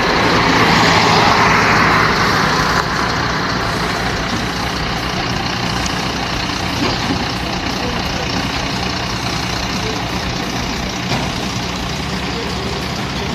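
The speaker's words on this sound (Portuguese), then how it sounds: "aqui na frente tem mais um ônibus, tem mais outro caminhão" Heavy vehicles, a bus and a truck among them, roll past army headquarters in Brasília, a steady loud engine rumble and road noise that swells early, then holds, with a voice talking over it.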